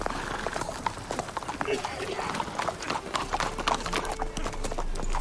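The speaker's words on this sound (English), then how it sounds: "I love the sound of the horse hooves." Horse hooves clip-clop steadily in The Witcher 3: Wild Hunt as a horse is ridden, a close rhythmic patter continuing under game voices talking throughout.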